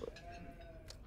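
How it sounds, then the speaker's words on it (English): A churro sheep bleating once, faint and brief, in the Beyond Two Souls game on a Navajo ranch, with quiet background ambience. "Sheep."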